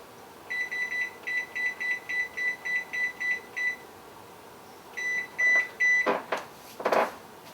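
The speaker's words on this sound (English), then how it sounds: "We'll start the timer" Kitchen oven control panel beeping as the cook time is set: a rapid run of about ten regular electronic beeps, a pause, then a few more beeps and button presses, close and clear with no talk.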